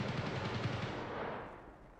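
Rapid automatic gunfire in Escape From Tarkov, a dense burst of quick shots with a rumbling echoing tail that fades over about two seconds, fairly loud and with no talk over it.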